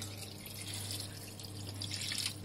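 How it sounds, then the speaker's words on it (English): Water pours from a tap into a pot of sauerkraut for Polish hunter's stew, a steady splashing trickle over a low kitchen hum, alone without talk. "I'll be adding a little bit of water to cook the sauerkraut."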